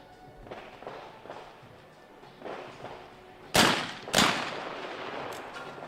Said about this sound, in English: So Mikola Milchev opens up the firing at station 3